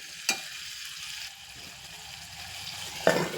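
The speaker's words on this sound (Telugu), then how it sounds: "నిమ్మకాయ ముక్కలు ఎలా ఉడికినాయో చూద్దాం అబ్బా భలే ఉడుకుతున్నాయి" Salted, spiced lemon pieces simmering in a pot for pickle give off a low, steady bubbling hiss, with two brief louder scrapes or clinks, one near the start and one near the end.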